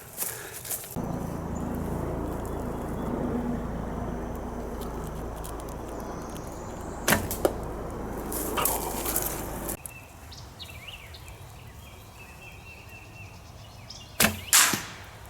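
Arrows loosed from a Black Hunter bow on an outdoor 3D archery course, heard as a few sharp, brief thwacks and impacts over steady outdoor background noise, with no talking.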